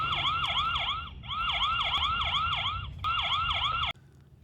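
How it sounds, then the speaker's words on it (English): An Onwote OW5 outdoor security camera sounds its siren alarm: a loud, rapid electronic whooping wail in three bursts separated by brief breaks, with no talking, ending abruptly. "Activate a siren."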